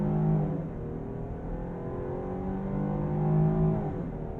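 Jeep Grand Cherokee L SUV accelerating hard from a standstill to 60 mph, a steady in-cabin engine drone with rising tonal whine that holds throughout, without talk.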